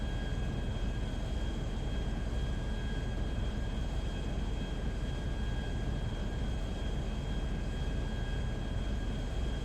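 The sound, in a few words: airplane flying in video game GTA V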